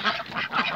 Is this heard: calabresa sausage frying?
no